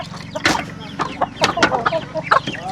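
Chickens cluck close by in a rural yard, a lively run of loud, choppy calls from several birds overlapping, with a voice briefly mixed in.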